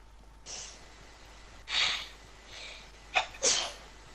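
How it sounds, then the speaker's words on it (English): Several short, separate sneezes from a player in a Fortnite squad session, four or five bursts spaced unevenly over a few seconds, fairly close and otherwise quiet between them. "Stop sneezing"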